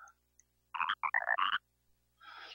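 Chibi-Robo's cartoon frog croaks in a quick cluster of chirpy, voice-like syllables, moderately loud, followed by a brief softer rustle.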